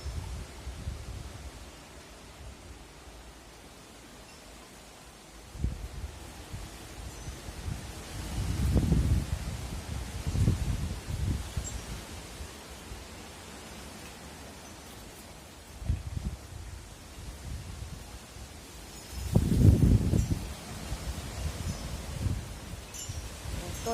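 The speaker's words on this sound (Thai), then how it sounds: "ลมแรงตั้งแต่เมื่อคืน" Strong wind gusts through the leaves of a walnut tree, a steady outdoor rush that swells into two louder gusts, one near the middle and one toward the end.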